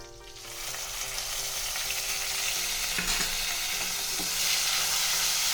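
Ground onion paste sizzling in hot oil with cumin seeds, with a steady close frying crackle that swells and intensifies after the paste goes in, with a few stirring scrapes.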